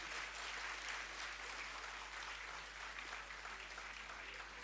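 An audience at a school annual day gives sustained applause, a dense, even wash of many hands clapping that sounds somewhat distant and quiet and continues throughout without a break.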